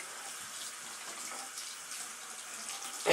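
Hot water runs steadily from a tap over a makeup brush being rinsed clean, a continuous soft hiss and splash at moderate distance.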